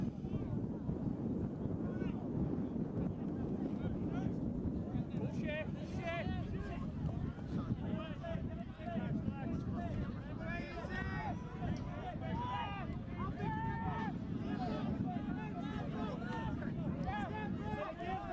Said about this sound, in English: You can see the blowing of the flag in the corner, which is a fair indication of how strong the wind is this afternoon.